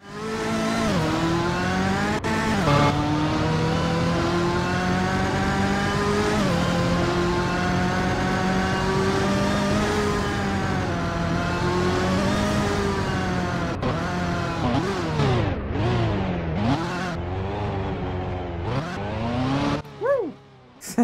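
Car engine in a Roblox racing game revving continuously with shifting pitch, then tyres squealing through burnouts, loud and steady without talk.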